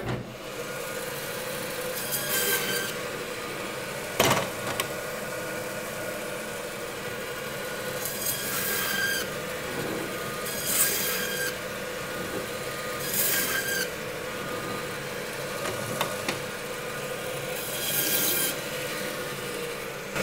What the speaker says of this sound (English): So we're just gonna cut some normal cross-cut soup bones.